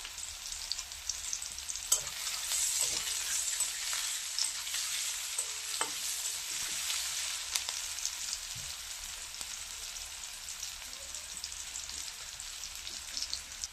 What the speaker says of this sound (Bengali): এখানে দিয়ে দিব গোটা জিরা,